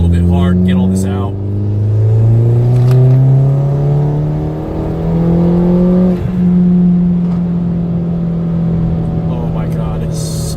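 A Mini with the N18 engine revs hard while being driven, its rising and falling engine tone loud and close throughout, with strong harmonic sweeps as it accelerates and shifts.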